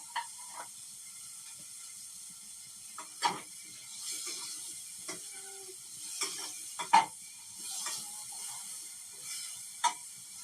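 Onion, tomato, ginger and garlic frying in a pan, a soft continuous hiss and sizzle with occasional sharp clicks and scrapes of stirring, faint and close, with no talking.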